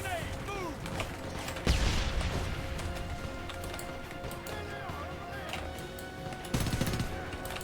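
Semi-automatic gunfire in the video game Homefront: several sharp shots and bursts over game effects, with a couple of heavier blasts standing out among them.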